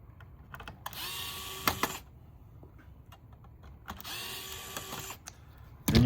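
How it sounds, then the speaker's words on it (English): A screwdriver, likely powered, removes screws from the hard drive bracket inside a TiVo Edge, giving two short whirring bursts a few seconds apart with small clicks and handling noises between. "what we're gonna do is remove 6 screws. 4 screws on the hard drive"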